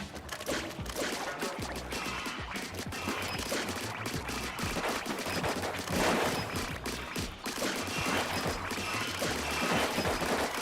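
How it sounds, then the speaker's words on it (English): Explosions and crashing effects from the video game Splatoon Raiders fill the scene, a dense, loud burst of blasts, debris and splashy rumble carrying on steadily throughout. "Okay, that was a pretty solid explosion."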